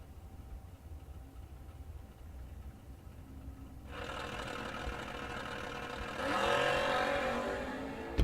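Door-car drag racers, a white S10 among them, launch down the strip: faint distant crowd ambience gives way to a swelling roar of engines that grows louder toward the end.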